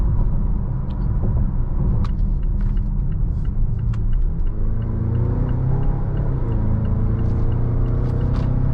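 A steady engine rumble builds as a 2020 Mazda CX-9 Signature SUV accelerates, heard from inside the cabin, with a continuous low drone and rising tone.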